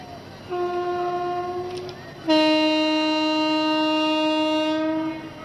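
Train horns blare on a railway track where two trains approach on the same line, one long tone and then a louder second horn holding for several seconds over a rumbling train, no voices.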